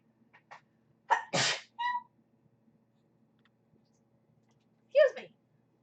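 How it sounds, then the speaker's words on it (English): A single sharp human sneeze, close and fairly loud, comes after a short intake of breath, with soft clicks and a brief voice afterward in an otherwise quiet room. "That was a really random sneeze."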